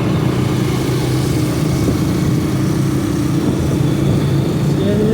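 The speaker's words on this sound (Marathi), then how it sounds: "सीएनजीवाली बाईक भाई" A CNG-powered motorcycle engine droning close by, a steady loud buzz that holds level throughout with a slight rising pitch toward the end.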